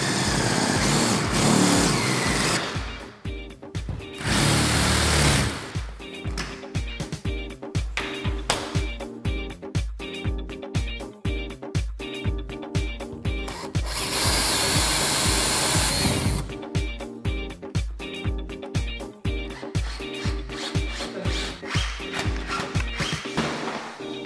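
A power drill bores out a hole for a keyless security lock on a sliding patio door, with several loud, close bursts of high-pitched whirring separated by pauses and set against a rhythmic background beat.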